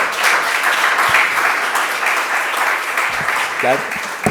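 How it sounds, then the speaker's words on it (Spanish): Steady, dense applause from a lecture audience fills the hall at full volume throughout, with a brief voice surfacing near the end. "Vamos a dar un aplauso."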